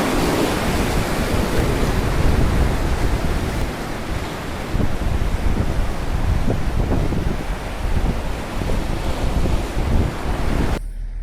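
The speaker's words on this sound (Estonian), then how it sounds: "Hästi mõnus lainte loksumine on, ma ei tea, kas te kuulete?" Waves lap at the sea shore beside the cruise promenade in Tallinn, Estonia, in a constant washing roar mixed with heavy wind buffeting the microphone, with no one speaking.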